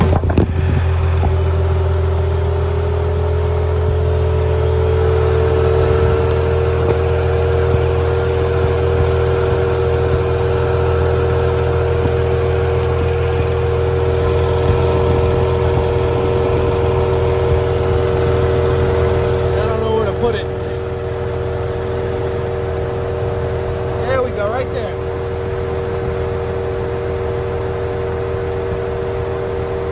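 A 2.0T Audi B8 S4 idles with an X34 carbon intake, recorded from close by. Its low engine hum and steady mid-pitched drone run continuously for thirty seconds, with a person speaking briefly.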